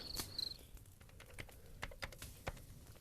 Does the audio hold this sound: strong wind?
no